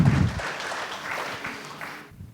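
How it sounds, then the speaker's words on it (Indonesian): A church congregation applauds during an online worship service, a short burst of dense clapping that fades within about two seconds. "Dengan tepuk tangan meriah buat Tuhan kita"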